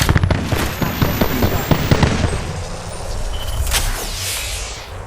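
A grenade blast in the Apex Legends video game rings out as a sharp burst of crackling bangs, followed by a roaring wash that gradually fades, with a voice calling out over the gameplay noise.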